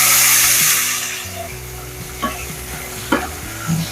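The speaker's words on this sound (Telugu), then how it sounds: "ఇప్పుడు వీటిని లైట్ గా ఫ్రై చేసుకోవాలి. టమాటా మంచి పచ్చివాసన పోయేంత వరకు ఫ్రై చేసుకోవాలి." Tomato and green chilli frying in hot oil in a pan, a soft sizzle under several sharp scraping stirs of a spatula against the metal.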